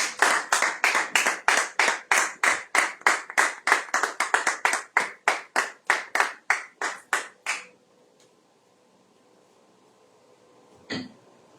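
A church congregation claps in unison to acclaim the Lord during a Sunday service, about twenty-five loud, evenly spaced claps over seven seconds, then near silence with one faint knock.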